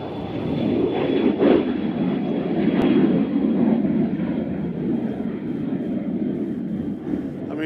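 An airplane flies over Nashville International Airport as a steady, broad engine roar that holds loud and near throughout, with no voices.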